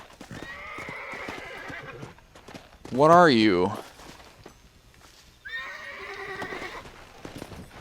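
A Kentucky Saddler horse in the Red Dead Redemption video game: clopping hooves throughout, with a loud, near whinny in the middle. Someone talks before and after the neigh.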